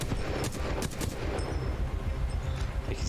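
Rapid gunfire in Fallout 76 rattles in quick bursts at moderate loudness, a mix of nearby and more distant shots against steady background ambience, with no talking.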